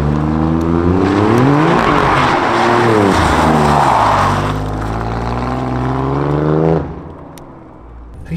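Alfa Romeo Giulia Quadrifoglio, 510 hp rear-wheel drive, revving with its exhaust flaps open in race mode: loud sustained engine roar with rising and falling revs, close and alone, dropping to idle near the end.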